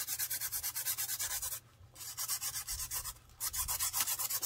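Rhythmic back-and-forth sanding strokes on a book page, close and steady, pausing twice briefly before resuming.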